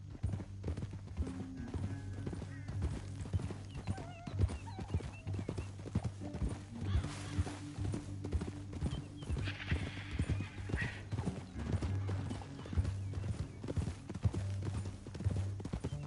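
Horse hooves clip-clop steadily in Red Dead Redemption 2, a regular trotting rhythm over a low ambient drone, with a brief whinny partway through and no voices.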